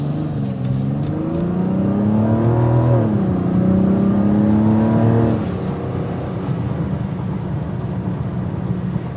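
A 2024 Mazda CX-90 with a 280 horsepower engine accelerating hard, engine note climbing through the gears with a brief shift dip, then settling into steady road and wind noise, heard from inside.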